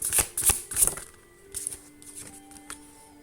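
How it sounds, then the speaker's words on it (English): A tarot card is drawn from the deck: a few quick papery flicks and card snaps up front, then softer slides and taps, close and fairly quiet, with no talking. "I'm going to draw one card here"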